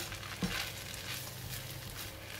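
Kuey teow noodles stir-fried with fried garlic in a hot pan give off a steady, close sizzle, with a brief scrape of stirring early on.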